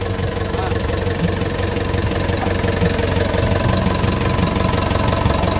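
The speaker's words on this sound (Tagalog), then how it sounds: "testing the engine" An Isuzu 4BC2 diesel engine runs at a steady idle just after a top overhaul, giving a continuous, loud, close mechanical drone with a fine, even clatter throughout.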